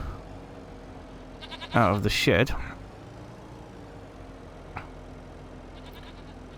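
Goats bleating in the Farming Simulator 25 video game, on a farm near a shed, with a short burst of loud wavering bleats and a faint later call, under and between someone talking.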